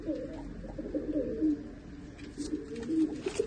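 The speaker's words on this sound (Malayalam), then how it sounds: "ഇതിപ്പോ പുതിയ സെറ്റ് ചെയ്ത പ്രാവാ." Pigeons of the Muruchundan breed coo in a steady run of soft, low, throaty calls that sit close by and repeat through the moment, with no voices over them.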